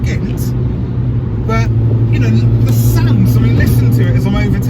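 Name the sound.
R53 Mini Cooper S engine accelerating while overtaking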